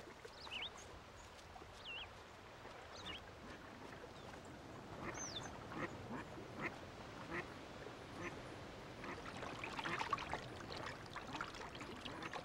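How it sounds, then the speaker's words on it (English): Young ducks on a pond give scattered soft quacks and calls, faint and somewhat distant, over a steady outdoor background with light water sounds. "Young ducks have grown up on this pond."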